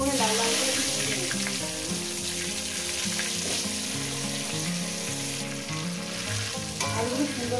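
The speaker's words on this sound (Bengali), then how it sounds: "এবার আলুগুলো আমি দিয়ে দেব। আলুগুলোকে সুন্দর করে লাল লাল করে ভেজে নেব।" Potatoes sizzle and fry steadily in hot oil for a chicken curry, a continuous close crackle with some stirring clatter throughout, no talking over it.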